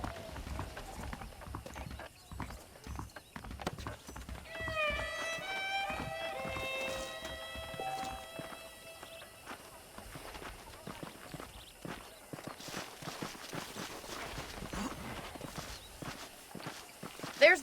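Steady clip-clop of horse hooves walking in the video game Red Dead Redemption, with a brief whinny partway through and a busy background underneath.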